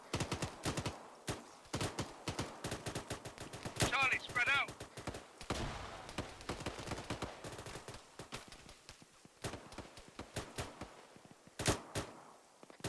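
Rifle fire in the Arma 3 military shooter during a squad patrol training session comes in sharp, rapid cracks and bursts, some close and loud, with brief radio-style voice callouts between the shots.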